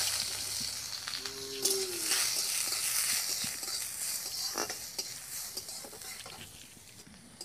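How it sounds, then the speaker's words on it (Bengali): Steady sizzling of chopped onion frying in hot oil with a dried chilli and nigella seeds, a soft continuous crackle with no voices. "পেঁয়াজটা ভাজা হয়ে গেছে"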